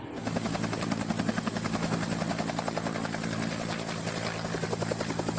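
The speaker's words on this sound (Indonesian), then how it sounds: "Wow, ini helikopter Black Hawk." A Black Hawk helicopter in a game featuring aircraft, helicopters, jets and tanks, its rotor chopping in a steady, loud, rapid beat with a constant engine drone throughout, with no voices.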